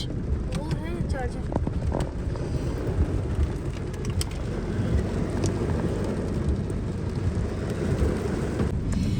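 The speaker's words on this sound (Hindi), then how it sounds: "अल्लाह इतनी तेज तूफानी बारिश।" Heavy stormy rain pours in Karachi, a dense steady roar with wind buffeting the microphone throughout, while someone speaks over it.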